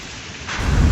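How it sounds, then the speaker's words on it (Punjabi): Heavy rain with thunder and strong wind in a Punjab village, a dense hissing downpour that swells into a loud, close low rumble of thunder over the last half second. "ਬਾਰਿਸ਼ ਸ਼ੁਰੂ ਹੋ ਗਈ ਹੈ, ਹਨੇਰੀ ਵੀ ਚੰਗੀ ਤੇਜ਼ ਆ ਤੇ ਬਾਰਿਸ਼ ਵੀ ਚੰਗੀ ਤੇਜ਼ ਆ"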